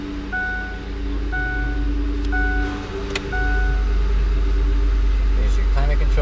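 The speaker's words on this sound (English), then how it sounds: "Truck fires right up." A Ford F-150 pickup's engine cranks over and catches about halfway through, then settles into a steady low idle, while a dashboard chime beeps repeatedly and a voice murmurs faintly.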